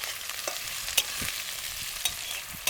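Dried red chillies and bay leaves sizzling in hot oil in a pan, a constant crackling fry with a few sharp pops and stirring clicks, close and with no talking.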